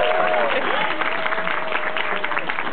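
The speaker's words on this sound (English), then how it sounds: "I'll have to applaud now." Audience applause at a retro gaming expo storytelling session, a dense patter of clapping through band-limited, slightly muffled sound with a faint tonal whine running underneath.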